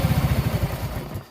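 A Yamaha Mio M3 scooter engine with loose valve clearance is kick-started and struggles to catch, giving a rapid, loud, close chugging pulse that sputters and fades after about a second.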